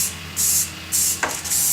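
Black spray paint hisses from an aerosol can onto an air mover in short light bursts, three loud sprays separated by brief pauses, with a faint rattle between them.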